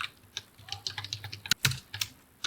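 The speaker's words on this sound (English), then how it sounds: "I'll click here and then type" Keys clatter on a computer keyboard as a prompt is entered, a quick run of close, crisp taps with a couple of louder strokes near the middle, no talking.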